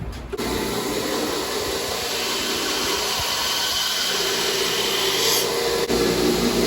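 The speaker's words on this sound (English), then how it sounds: "I'm going to grind the swedge on." An angle grinder grinds the swedge into a steel knife blade, a loud, steady abrasive whine that holds without a break for several seconds, with no talking.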